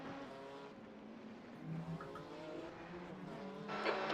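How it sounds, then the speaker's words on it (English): A GT3 race car in a rain-soaked Sebring endurance race in a racing video game, its engine droning steadily and building slightly toward the end as a faster car closes in. "there's a faster car approaching"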